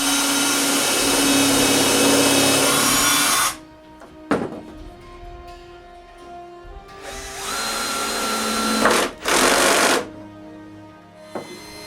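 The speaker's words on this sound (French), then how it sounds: "Vient le temps de marquer puis de percer tous les trous de vis pour fixer la base temporairement à la boîte du bureau." Cordless drill boring screw holes in a wooden dresser carcass to fix its base, whining in several bursts of a few seconds each, with short pauses and clicks between runs, loud and close.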